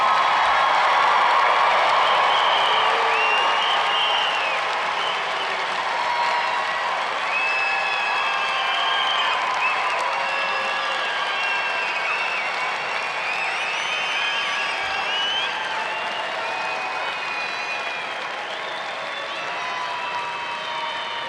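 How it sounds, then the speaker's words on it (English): At a spring commencement for Penn State Fox Graduate School master's graduates, a large crowd applauds in a long, sustained wash of clapping with some cheering. Faint tonal sounds run through it the whole time. "let us applaud their achievements"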